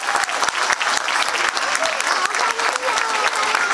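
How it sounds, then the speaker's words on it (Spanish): Loud, sustained applause from a concert audience honouring the city of Iquique at a folk-rock gala, dense clapping filling the hall for several seconds with faint voices mixed in. "Un gran aplauso para los cantantes del siglo XXI."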